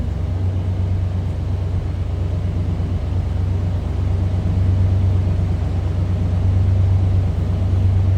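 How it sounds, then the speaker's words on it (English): A 1972 Chevrolet C10 with a big block V8 idles with a steady, deep exhaust rumble, heard up close and alone, holding an even low burble throughout with no voices. "rumble coming out of that big block"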